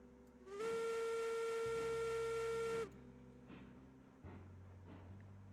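A video game train's steam whistle sounds one long, loud, steady blast for about two seconds, then cuts off, leaving a low engine rumble and faint hiss.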